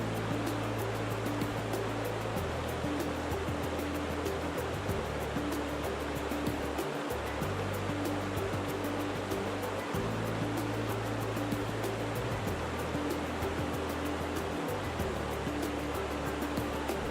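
A river flows right beside a campsite on a Yellowstone trip, a steady, dense rush of water that stays close and even throughout with no pauses. A low, constant rumble sits beneath it, and no one speaks.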